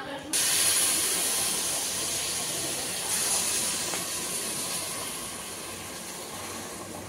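Hot water is poured into a pot of fried rice and rice, sending up a loud, broad hiss that starts abruptly and slowly fades over several seconds.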